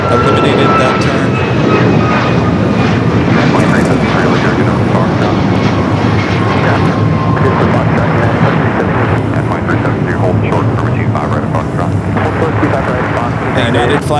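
A Boeing 737 MAX 9 airliner at LAX gives a loud, continuous jet roar that fills the whole stretch, rumbling and steady with a faint rising whine, while voices talk beneath it.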